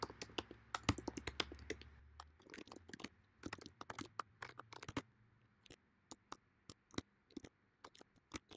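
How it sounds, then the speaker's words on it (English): Rapid, uneven keystrokes on a computer keyboard as a file path for the MiXCR sequencing software is typed, with clicks clustered densely early on and thinning to sparse, isolated taps later; close and alone, with no talking. "let me just start by typing the path to the MiXCR."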